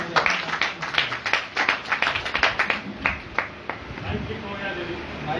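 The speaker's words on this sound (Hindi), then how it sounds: "दीदी के लिए जोरदार तालियां." Audience clapping for a woman being honoured at a book launch and award ceremony, a burst of distinct, fairly close hand claps that thins out toward the end.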